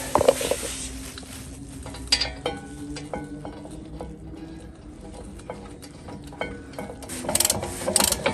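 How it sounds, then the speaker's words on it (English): Brake bolts being tightened on a 2017 Ford Kuga mk2 during a rear brake change, heard as close, rapid ratchet clicking in repeated bursts with a few metallic clanks between them. "Now just securing the bolts back into place."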